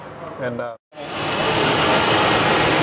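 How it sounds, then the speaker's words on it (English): Ford F-series truck engine starts after a DynoValve install and settles into a loud, steady idle close by, following a brief spoken word and a short silence. "okay, now we started up the engine."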